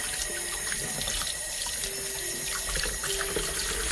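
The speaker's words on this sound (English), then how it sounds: "Alright, so I'm just rinsing off my produce here." Steady running tap water pours into a kitchen sink as fresh produce is rinsed beneath it, a continuous close splashing hiss with slight shifts as the items move through the stream.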